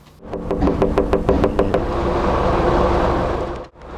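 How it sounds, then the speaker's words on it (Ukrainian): About ten light knocks tap a window in quick succession, then stop, over a loud steady background hum from the surroundings. "Легенький стукіт"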